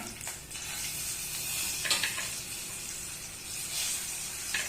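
Potato pieces frying in oil with mustard seeds and curry leaves, a steady close crackling sizzle with a few brief louder pops and stirring scrapes, no voices.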